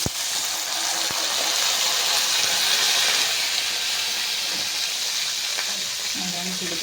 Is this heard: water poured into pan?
yes